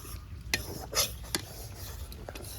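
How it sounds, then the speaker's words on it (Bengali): Gram flour is stirred and dry-fried in a wok, with a few soft, faint scrapes and light taps of a spoon against the pan, heard close and alone. "বেসনটা একটু ভেজে নিচ্ছি।"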